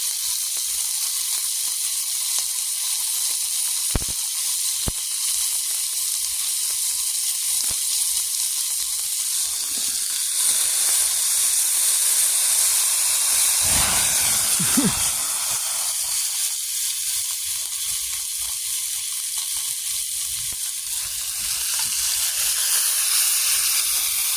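Grease sizzling over campfire coals at a campsite, a steady bright hiss that runs the whole time with a few faint low knocks and shifts in between.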